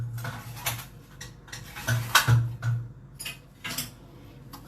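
Metal cutlery clinks and rattles as someone rummages through utensils for a spoon, a series of irregular close jingles and knocks with a sharper clatter midway.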